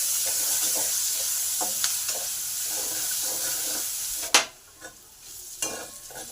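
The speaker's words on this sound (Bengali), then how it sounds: "এবার পেঁয়াজটাকে একটু ভালো করে ভেজে নেব।" Onions fry in oil in a pan, giving a continuous soft sizzle broken by stirring scrapes and a few sharp clinks of the spoon against the pan.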